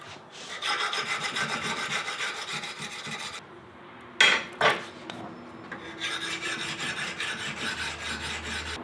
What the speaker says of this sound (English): so I'm going to use a diamond abrasive stone instead. This is a fine grit.